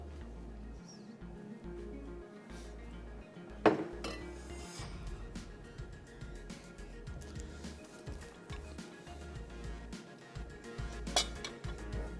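Vegetable butter chicken is spooned from the pan into a serving dish: quiet scraping with a couple of sharp metal clinks against cookware, close by in a calm kitchen.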